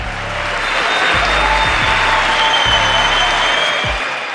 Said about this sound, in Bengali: সে সময় মার্কিন কংগ্রেসের হাউস করতালিতে আর ডিজে ডিজে ধ্বনিতে মুখর হয়ে ওঠে